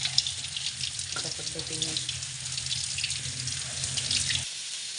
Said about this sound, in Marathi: त्याच्यात धूळ माती असते ती स्वच्छ अशी पाण्याखाली आपण इथे धुवून घेत आहोत